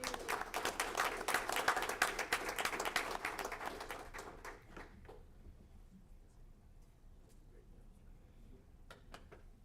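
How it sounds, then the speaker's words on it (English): A round of applause at a board meeting, moderately close clapping for about five seconds that thins and dies away, followed by quiet room noise and a few scattered taps. "Another round of applause."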